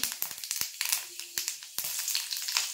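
Hot oil crackles and sizzles in a pan while tempering masoor dal with garlic and onion, with a run of sharp, close pops over a steady hiss.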